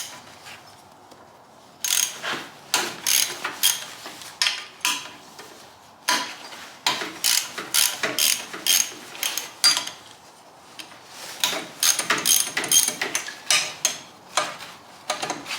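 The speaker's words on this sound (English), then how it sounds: "Let's get this head off of here." Ratchet work pulling the cylinder head off a neglected 1983 Honda Odyssey FL250 go-kart engine, with bursts of quick metallic clicking separated by short pauses and clinks of tools, close and fairly quiet.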